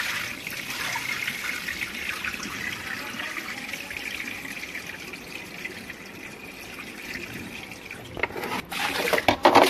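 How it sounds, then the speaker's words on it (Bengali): Water pours and trickles steadily as it is drained off washed pigeon feed at home, a continuous splashing flow with a few louder sloshes near the end and no talking. "জলটা ফেলে দেবে আবার।"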